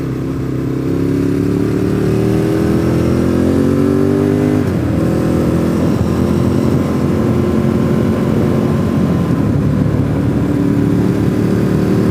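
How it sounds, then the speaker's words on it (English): A group of motorcycles rides past, their engines droning loud and steady, with the pitch shifting as they pass and fade into a continuing roar. "Motorcycle gang."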